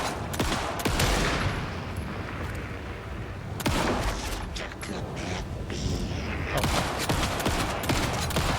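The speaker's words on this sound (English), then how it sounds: "Pistol." Pistol gunfire in the video game Alan Wake 2: a rapid string of loud, sharp shots in several bursts across the span, with dense game ambience between them.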